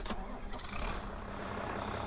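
Fendt Farmer 300Ci tractor engine in Farming Simulator 22 cranks and catches after a brief opening transient, then settles into a steady mid-pitched idle rumble, close and moderately quiet.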